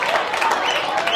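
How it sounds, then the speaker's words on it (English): A vocal crowd at a junior rugby league game roars steadily in a dense wash of cheering and shouting that stays loud and continuous for the whole moment. "Decent crowd in here too."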